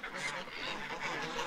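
A short run of soft, distant goose honks in the rain, a few overlapping calls with no voices.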